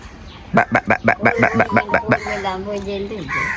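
A hen clucks close by in Jaffna, Sri Lanka, in a quick, even run of about nine sharp clucks, then trails into a drawn-out squawk.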